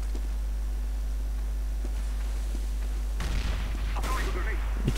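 Gunfire in Counter-Strike: Global Offensive: a few sharp, faint game shots early on, then louder bursts of firing toward the end over a steady low hum.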